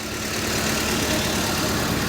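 A steady, rumbling 2013-model tractor engine idles close by at a tractor market in Malout, Punjab, a continuous low mechanical drone with even vibration and no pauses.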